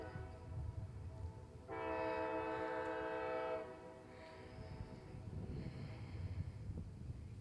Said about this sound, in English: I'm gonna pause for the train.